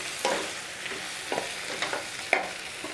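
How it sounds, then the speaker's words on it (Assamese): Ground cumin and coriander being stirred in a pan for khichdi, with a low sizzle and a few distinct scraping strokes, close and fairly quiet, with no talk. "আৰু এইখিনি ভালদৰে লৰাই দিছোঁ।"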